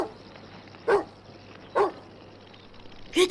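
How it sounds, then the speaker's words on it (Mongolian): A dog barks three times, short separated yelps over a low steady background hum, in a children's tale, moderately near and not loud. "гэд хуцлаа"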